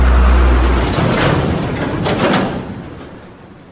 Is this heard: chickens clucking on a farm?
no